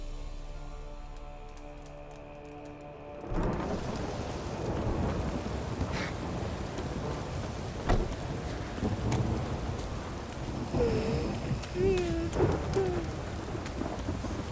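Drizzling rain with rolling thunder in The Witcher 3: Wild Hunt, a steady wash of rainfall starting after a few quiet seconds, with several low thunder rumbles and distant cracks throughout.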